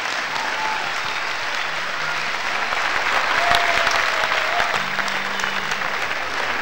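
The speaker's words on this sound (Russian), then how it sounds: "И хочу попросить бурными аплодисментами поприветствовать всех членов жюри" Loud sustained applause from a crowd greeting the jury of a circus festival on Red Square in Moscow, a dense continuous roar of clapping filling the whole stretch, with faint tonal sounds in the background.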